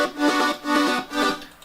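Three swelling synthesizer chords pulse in a slow rhythm, each rising and fading smoothly with a soft, airy texture.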